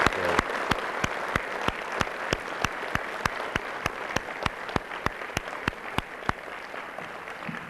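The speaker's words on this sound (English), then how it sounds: "so you can get a round of applause." Applause from an audience at a San Marino historical society meeting, with regular sharp claps standing out over a steady wash of clapping for the full length, fairly close and without speech.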